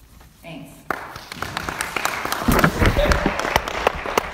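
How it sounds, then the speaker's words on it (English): Audience applause breaks out at a community political meeting with a congressional candidate, scattered claps building into a fuller round of clapping in a room where voices murmur underneath. "please hold your applause for this conversation"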